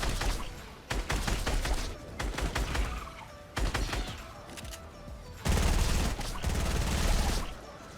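Bursts of SCAR and P90 automatic fire in Fortnite's pop-up aim training, loud rapid volleys in several clusters with short pauses between them, no talking.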